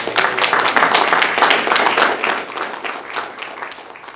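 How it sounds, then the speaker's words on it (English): A room of people at a school district board workshop clap for the EPP team, a steady dense patter that holds loud and then eases slightly toward the end. "we ought to give the EPP team a round of applause"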